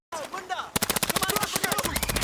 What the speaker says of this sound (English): With gunshots ringing out outside